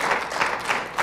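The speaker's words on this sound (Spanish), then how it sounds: "Démosle un aplauso al Señor ahí para entrar un poquito en calor" A church congregation claps together in praise, a steady moderate wash of applause with no voices over it.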